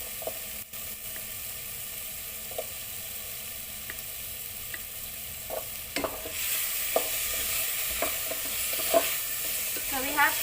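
Okra and softened tomato frying in a pan for sambar, a low steady sizzle broken by intermittent scraping stirs that grow busier and louder midway, close and without talk.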